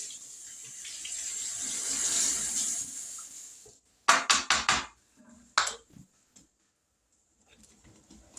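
A tap runs steadily for about four seconds and then shuts off, followed by a quick run of clattering knocks and a few faint scattered sounds in a quiet kitchen where jars of tomato juice are being rinsed.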